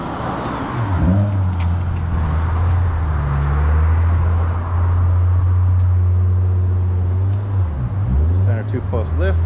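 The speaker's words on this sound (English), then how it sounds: "Little K car." A small Japanese kei car drives past a mechanic's workshop, its engine note rising and falling as it moves, close and fairly loud over steady background noise; people talk nearby.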